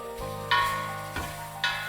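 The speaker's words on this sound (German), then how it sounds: "Ingwer anbraten." Ginger slices fry in a shot of hot oil in a pot, giving a steady crackling sizzle with a few sharp bursts as pieces are stirred, close and moderately loud, no voices.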